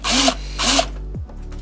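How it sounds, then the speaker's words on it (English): A power tool bites into metal twice in short bursts to make a screw dimple, each bright whirring burst stopping abruptly before a winding down. "We're gonna make a dimple into our metal so that we know"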